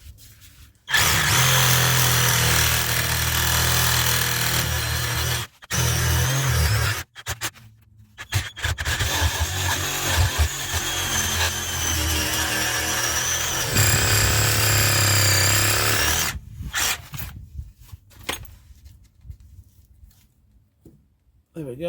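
A power saw fitted with a coarser blade cuts through a BMW axle bush in loud, harsh, sustained bursts, broken by several short pauses before it fades to quieter intermittent scraping.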